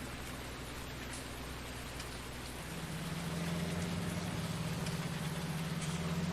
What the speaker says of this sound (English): Come on, rain. You got to stop sometime.